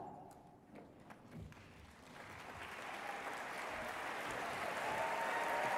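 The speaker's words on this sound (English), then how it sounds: "Give them a round of applause." An audience at the 2023 Goldman Environmental Prize ceremony applauds past prize winners standing among them: a few scattered claps at first, then the applause swells from about two seconds into a broad, steady ovation that keeps growing louder.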